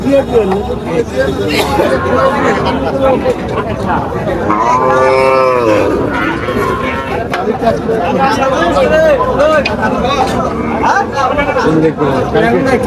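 Cattle low repeatedly at a busy cattle market in Faridpur, one long clear moo rising above a dense babble of crowd chatter and people talking nearby, loud and continuous throughout.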